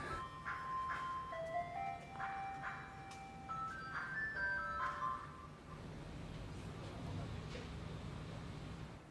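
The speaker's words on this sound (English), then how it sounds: "Gonna have to stop this ice cream truck here." An ice cream truck jingle plays as a tinkling melody of bright electronic notes for several seconds, then fades out, leaving a low background hum with faint traffic.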